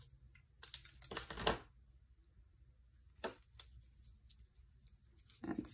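Scissors snip a paper leaf for a tulip card, producing a short cluster of quiet, crisp cuts, then a lone snip and another faint cut, close up in a quiet room.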